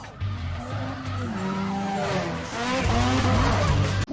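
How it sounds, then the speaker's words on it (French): A car's tires squeal as it drifts through a turn, a loud, continuous screech with wavering pitch over a steady engine drone for about four seconds. "comme dans une voiture qui prend un virage"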